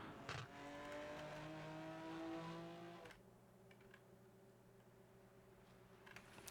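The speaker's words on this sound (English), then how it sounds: "Spinning up the rear tires quite a lot." A GT4 race car in the Rennsport sim at the Nordschleife howls under acceleration out of a corner with rising engine tones, then the note drops to a quieter, steadier hum.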